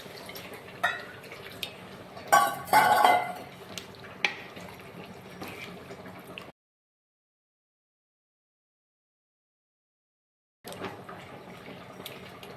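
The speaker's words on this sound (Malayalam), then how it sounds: "നമ്മൾ ആവശ്യത്തിന് വെള്ളം ചേർക്കുവാണെങ്കിൽ ഇത് വേകാനുള്ള വെള്ളം ചേർത്ത് നമുക്ക് വയ്ക്കാം." Water is poured into a cooking pot of country-style chicken, a close splashing and trickling that swells for about a second, then settles into softer dribbles, followed by silence and a faint return of kitchen noise.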